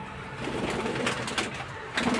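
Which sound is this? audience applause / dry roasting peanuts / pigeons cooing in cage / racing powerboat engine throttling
pigeons cooing in cage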